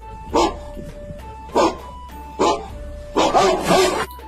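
A dog barks in four sharp bursts at a steady pace, the last one longer and rougher, with a faint voice underneath and a low background hum.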